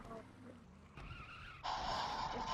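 A car in the Lego Harry Potter Years 5-7 game skids with a short tire screech that rises sharply at the end, loud over a rough engine rumble, with a voice talking briefly before it.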